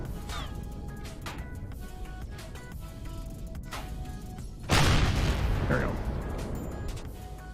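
Laser turrets blown apart in the space survival game Empyrion Galactic Survival, a sudden loud explosive boom that rolls off over a couple of seconds, following steady mechanical game noise, with a brief spoken remark before it.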